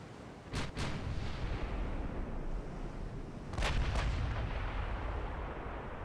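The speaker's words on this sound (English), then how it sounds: "Shooting at 40 kilometers away." Battleship naval guns boom in the Ultimate Admiral Dreadnoughts naval warfare game: two pairs of loud, sharp artillery blasts, the first early and the second a few seconds later, over a constant rumbling sea-battle backdrop.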